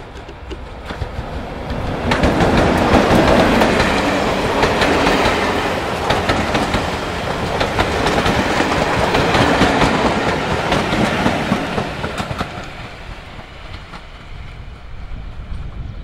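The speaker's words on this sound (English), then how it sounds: "The Class 46 once again." A Class 46 diesel locomotive hauls its train past on the Mid Hants Railway, engine rumble building from about two seconds in, with rhythmic wheel clatter over rail joints, holding steady, then easing away near the end.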